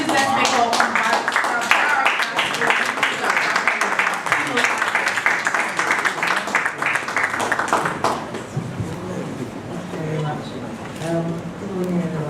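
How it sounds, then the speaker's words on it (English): A large audience at a business event gives a speaker a loud, dense round of applause that holds strong for about eight seconds, then thins to scattered claps under a voice starting to talk. "With a big round of applause, please let's make welcome"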